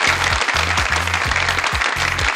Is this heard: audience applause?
yes